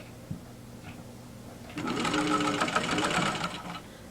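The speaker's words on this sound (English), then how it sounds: "I put them under the sewing machine and sew at an angle" A sewing machine stitches two fabric pieces laid right sides together, sewn at an angle, starting after a quiet pause and running in a steady, rapid mechanical whir for about two seconds close by.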